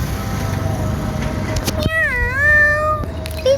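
A young street kitten gives a clear, rising-and-falling meow near the middle, with a fainter chirp at the end over steady outdoor background noise.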